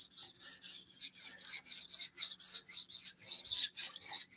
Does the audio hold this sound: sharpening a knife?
yes